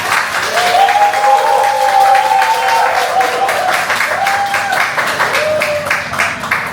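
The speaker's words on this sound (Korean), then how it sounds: "오늘 함께 하신 분들의 뜨거운 열정만큼 큰 박수로 보여주시기 바랍니다" A lecture-hall audience at a cooking class bursts into loud, sustained applause, with dense clapping throughout and a voice speaking over it for several seconds.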